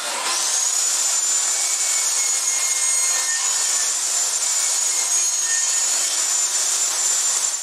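A saw cuts steadily through pallet wood to split the pieces in half for a crate build, a continuous rasping, whining drone that holds an even loudness from start to finish with no pauses or talking.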